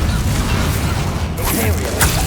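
A Bombarda spell explodes in the video game Hogwarts Legacy as a dense, loud blast with rumbling debris and sharp crashes. A voice casts the spell by name.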